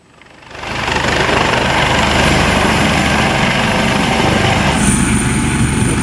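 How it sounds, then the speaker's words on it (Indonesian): A Basarnas rescue helicopter comes in to land after evacuating flood-stricken residents in Palembayan, Agam, West Sumatra, its rotor and engine swelling within the first second into a loud, steady, close roar that holds to the end. "Inilah kondisi di mana helikopter Basarnas mulai mendarat usai mengevakuasi warga"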